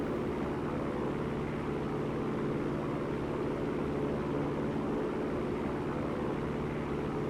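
Steady propeller drone of a simulated Piper Cherokee PA140 light aircraft climbing after a rough takeoff in X-Plane 11, a continuous engine hum holding level throughout with no talking.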